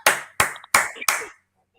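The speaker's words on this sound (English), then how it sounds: "I know how to clap" Four sharp hand claps in a quick, slightly uneven rhythm, close and fairly loud, followed by silence; no talk.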